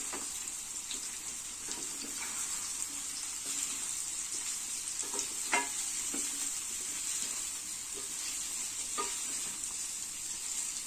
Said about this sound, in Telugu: బాగా కలుపుకొని